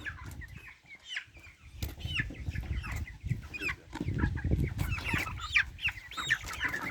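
A flock of broiler chickens clucks and chatters continuously during feeding, with many overlapping nearby calls and soft scuffling underneath, and no one speaks.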